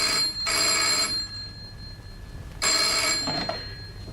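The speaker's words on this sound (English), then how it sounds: "the phone rang." A telephone bell rings twice in an indoor radio-drama scene, two bright, loud bursts separated by a short pause and followed by quiet room tone.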